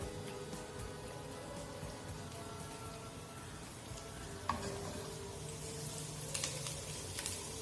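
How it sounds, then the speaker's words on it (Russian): Garlic fries in a little oil in a heated pan, a faint, steady sizzle and crackle with small scattered pops, heard close and alone. "Наша сковородочка загрелась, немножко масла. Отправляем туда чесночок"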